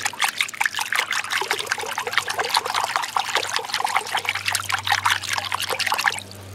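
Salt is stirred into a small amount of water until it dissolves, giving a continuous close trickling and sloshing for several seconds before a low hum is left alone at the end.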